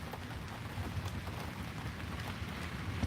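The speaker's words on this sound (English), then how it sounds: "I don't even know if it's raining. It's raining a little bit, but it's not really hitting me because of the tree." Light rain patters softly and steadily through a tree canopy outdoors, a faint continuous hiss of drops with no speech.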